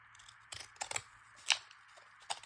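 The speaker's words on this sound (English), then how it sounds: "you might want to cut them with ripple scissors" Several crisp scissor snips cut through stiff cardstock from packaging at close range, spaced irregularly with quiet pauses between them.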